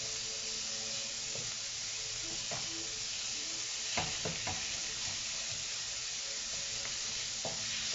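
Pork cubes fry in a pan with a steady close sizzle and hiss, broken by occasional clatters and scrapes of stirring.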